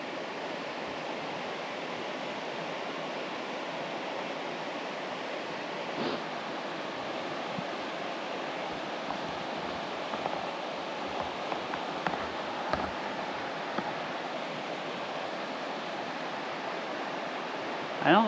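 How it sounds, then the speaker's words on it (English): Steady rushing water from a river or stream flows continuously, a broad, even wash heard outdoors along a riverside bike path, with faint handling bumps and no clear talk. "It kind of picks up down there, so you can hear the water."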